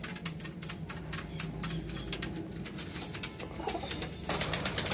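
Pet pigeons kept by a hobbyist cooing softly amid a busy outdoor background of rustling and chatter-like noise, with a burst of brighter activity near the end.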